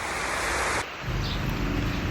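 Rainwater runoff after a downpour makes a steady, dense rushing wash, close and continuous, with a shift in tone partway through and no voices.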